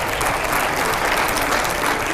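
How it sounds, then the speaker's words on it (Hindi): An audience bursts into dense, continuous applause at a televised political event, many hands clapping together at a steady, loud level throughout. "और जरा जोरदार तालियां बजाइएगा इसको लेकर"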